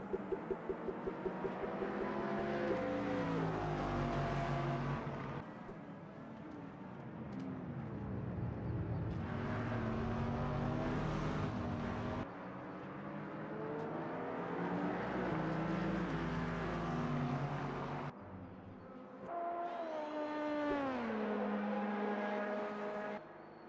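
GT3 race cars in the Motor Mania racing game roar past in loud engine passes, with rising and falling revs that sweep by in waves, several cars close together and no talk over them.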